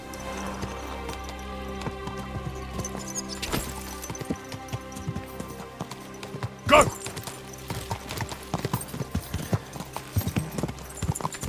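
Steady clip-clop of a ridden horse's hooves in the video game Kingdom Come Deliverance 2, rhythmic and continuous with game music underneath, a brief whinny, and someone talking over it.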